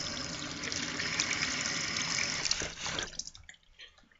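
Water runs from a tap over a Tomo nagura stone being rinsed, a steady close splashing stream for about three seconds that stops and leaves a few drips and small knocks.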